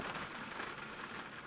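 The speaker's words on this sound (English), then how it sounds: "And the sound of the rain on the window." Rain patters softly and continuously against a window in the video game White Night, a faint, even hiss of drops with no voices.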